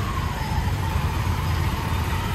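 Road traffic in heavy rain rumbles steadily nearby, with car and truck engines droning under a continuous hiss of rainfall.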